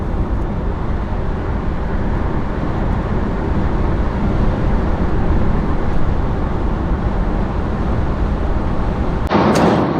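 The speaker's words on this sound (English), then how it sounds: "A lot of road noise, a lot of wind noise. It's become a very noisy cabin basically." Steady, loud road and wind roar inside the cabin of a BYD E6 electric car cruising at 100 km/h, a constant broadband rush with no speech and a brief knock near the end.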